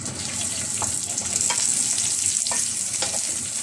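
Raw chicken breast sizzles and fries in a hot pan, a steady close crackle with a few brief louder spits, with no talking.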